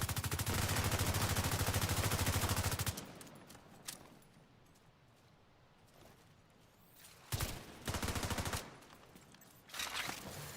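Bursts of automatic gunfire from The Division's Dark Zone, one dense sustained burst of several seconds at the start, then quieter stretches broken by shorter loud volleys near the end.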